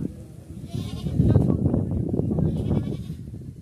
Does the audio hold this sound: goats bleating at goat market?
yes